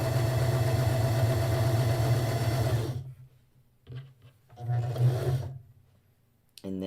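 Sewing machine stitching quilt fabric for a patch block, running steadily for about three seconds, pausing, then running in a shorter burst and starting again at the very end.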